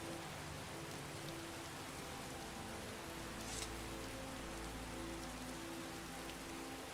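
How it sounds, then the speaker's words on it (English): Steady rain falls in the video game Skyrim, a constant faint hiss of drops with a low hum underneath and no voices. "We definitely need to get out of this rain."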